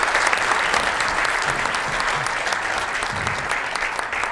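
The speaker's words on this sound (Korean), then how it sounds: "큰 박수 부탁드립니다." Audience at a forum opening ceremony in Seoul applauds steadily, a dense, even wash of clapping that fades slightly toward the end.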